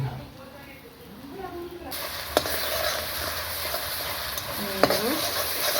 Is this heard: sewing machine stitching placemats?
no